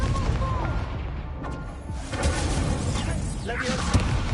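Incendio fire spell cast in Hogwarts Legacy, a rushing whoosh and crackling blast amid dense game effects, loud and continuous over a few seconds.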